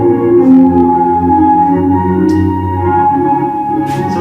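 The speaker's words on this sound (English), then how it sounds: "The paper cup one, or plastic cup one, will sound like this." A thin, buzzy electronic tone plays steadily from a small, tinny homemade speaker made from a plastic cup and coil, holding for a few seconds with no voices.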